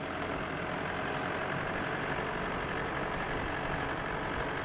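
A farm truck fitted with new off-road tyres idles with a steady, fairly quiet low rumble that holds even and unchanging throughout.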